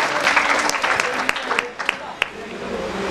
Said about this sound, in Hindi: निजाम साहब के लिए जोरदार तालियां।